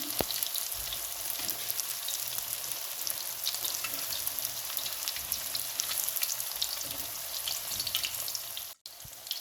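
Peshawari chapli kebabs frying on one side in a pan of oil, a dense, continuous crackling sizzle heard close and loud, with a brief dip near the end.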